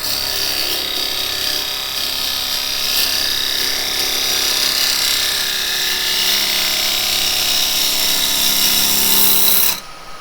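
A traditional woodturning tool cuts into a spinning wood blank on a lathe, a steady close scraping, rasping hiss that runs continuously and evenly before stopping abruptly near the end.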